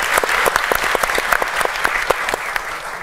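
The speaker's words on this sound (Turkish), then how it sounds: "Ama yine kocaman alkışlarınızla" Audience applause welcoming the astronaut guest onto a Turkish live television talk show stage, dense and sustained hand clapping from a studio crowd with sharp individual claps standing out, no voices over it.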